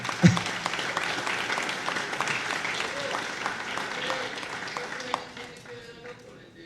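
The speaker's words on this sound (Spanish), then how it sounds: "Y yo quiero pedirles un aplauso para el gobernador" An audience at a novel launch event applauds the governor, a dense, sustained round of clapping that starts strong and gradually tapers off, with voices mixed in.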